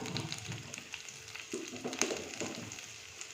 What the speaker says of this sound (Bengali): দেবো একটু সর্ষে ফোড়ন, সামান্য একটু সর্ষে দিলাম